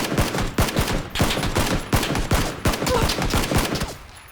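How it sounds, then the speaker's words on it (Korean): Rapid bursts of gunfire fill a squad battle video game, dense overlapping automatic shots crackling in quick succession, loud and close, with no voices over them. "걔가 쏘고 있는 거야"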